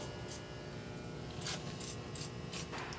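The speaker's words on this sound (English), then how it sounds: "Just give each stud a quick little" Several short hissing bursts of penetrating oil aerosol spray (PB Blaster) on exhaust studs, close by, spaced irregularly over a low background hum.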